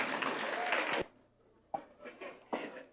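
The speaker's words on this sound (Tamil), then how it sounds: "திரும்ப ஒரு பலத்த கைத்தட்டு. இன்னொரு முறை." An audience claps at a Tamil community cultural program: a dense, loud burst of applause that cuts off abruptly, followed by a few scattered, fainter claps.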